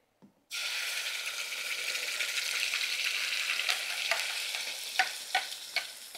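Ground masala paste hits a hot pan with oil and ghee and bursts into a loud, steady sizzle that runs on continuously, with a few small clinks and scrapes near the end.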